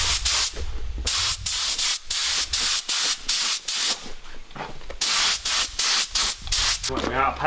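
A paint spray gun fires at high pressure in loud, hissing bursts that start and stop in a choppy rhythm, with short gaps between blasts and a voice briefly audible near the end.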